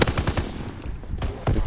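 Quick bursts of machine-gun fire in Call of Duty WWII crackle close and loud, with short pauses between the volleys and no talking.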